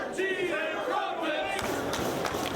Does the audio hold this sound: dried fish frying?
no